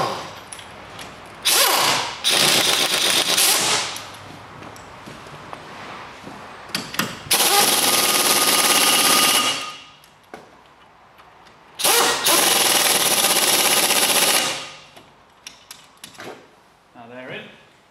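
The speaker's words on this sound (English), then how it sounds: "I'm going to use the air gun on a certain setting" A pneumatic air gun tightening the brake caliper bolts on a car's front disc brakes, sounding in three loud, long bursts of harsh rattling hiss, close by, with quieter pauses between.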